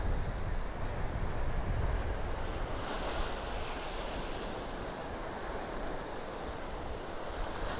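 Surf at Vanderbilt Beach in North Naples, Florida: a steady wash of breaking waves with some wind buffeting the microphone, broad and continuous with no voices.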